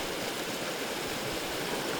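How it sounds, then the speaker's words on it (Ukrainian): Water pours steadily down a partly frozen winter waterfall in snowy, icy surroundings, a dense continuous rushing hiss with no voices over it. "По них вода спускається дуже гарно."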